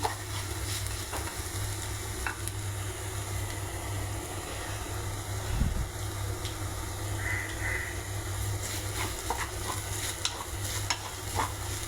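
Onions fry in a pan for a prawn fry, giving a continuous close sizzle with soft stirring scrapes and occasional light clinks of a spoon, steady throughout.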